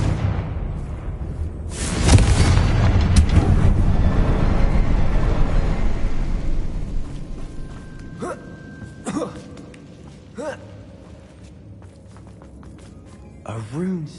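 A Confringo spell blast in the Hogwarts Legacy video game makes a loud booming burst around two seconds in and rumbles for several seconds before fading, followed by scattered smaller impacts and tones.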